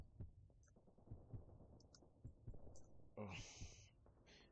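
Low-health heartbeat effect in the Pixel Strike 3D video game, a steady low throbbing pulse repeating under faint game sounds, with a brief brighter noise near the end.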